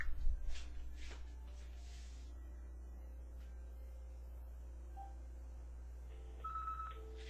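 Telephone line tones while the phone and fax lines of a Verizon FiOS business service are checked, with a few short dialing beeps early on and later brief tones over a steady low electrical hum.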